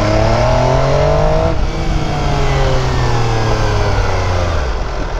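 MV Agusta F3 RR motorcycle engine, loud and constant, its pitch climbing steadily, dipping briefly at a shift and climbing again, with heavy wind rush throughout.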